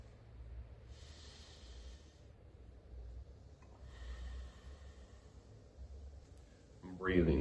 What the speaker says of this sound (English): I'm breathing this way, both into my front and my back.